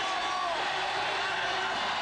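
A crowd of 8,000 at the 1998 Helsinki Grand Prix roars steadily to urge on the weightlifter Karlsson during a heavy lift, with a commentator talking over the noise.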